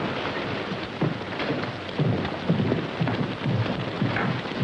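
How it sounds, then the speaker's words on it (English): Steady rain from a thunderstorm in a 1939 western film, heard as a dense, constant hiss with faint low rumbles swelling now and then. No voices are heard. "Well, that depends on how long the storm lasts."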